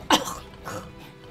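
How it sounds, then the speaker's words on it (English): A person coughs twice, one sharp harsh burst followed by a softer second cough, close and fairly loud. "I think I coughed it up, I'm not sure."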